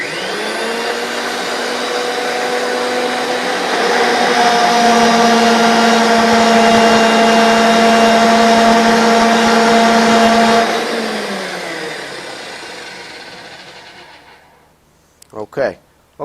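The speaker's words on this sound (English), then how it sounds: "So I'm going to turn the machine on, I'm going to approach the pipe" A RIDGID 535M pipe threading machine runs loudly while reaming a pipe end. Its steady motor drone swells and holds for about ten seconds, then winds down to silence, followed by a couple of sharp clicks.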